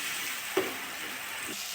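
Spice paste frying in oil in a pan for a fish curry, a continuous soft sizzle with one brief clink near the start, water being added to the pan.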